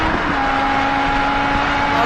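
A fast car in a Liverpool gang crime video game holds a steady, loud engine drone at around 155, with a continuous high whine over rushing road noise and no pauses.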